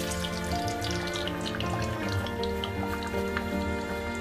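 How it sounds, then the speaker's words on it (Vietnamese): Beaten egg seasoned with a little soy-based fish sauce sizzles in hot oil in a frying pan, a dense, steady crackle of fine pops and spits that stays even throughout and has no voices over it. "Và chúng ta sẽ cho dầu vào chảo để chúng ta chiên cái phần trứng gà này."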